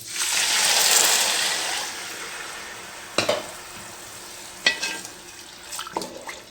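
A pot of water for Thalassery chicken dum biryani rice comes to the boil, a rushing hiss that swells early and then settles, broken by a few sharp utensil clinks near the end.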